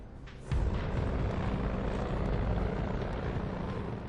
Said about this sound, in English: The first wave of Japanese bombers flies south across Oahu, completely unopposed.